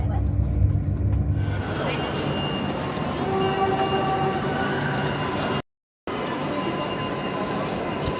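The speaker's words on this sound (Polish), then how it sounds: "Jesteśmy na głównym dworcu w Mediolanie." A train rumbles and rolls through Milan's main railway station with steady mechanical noise and faint squeals, a brief dropout near the end, with muffled voices around.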